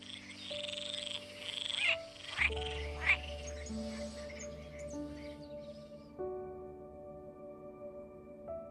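Frogs croak in a layered chorus of sustained, droning calls, with a few sharp chirps near the start, fairly close and moderately loud.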